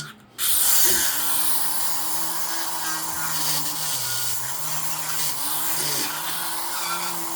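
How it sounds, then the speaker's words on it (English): A power sander grinds steadily while sanding out a hole, a loud continuous whirring buzz with slight pitch wavering, starting abruptly and running throughout. "But we knew we had to sand the hole out."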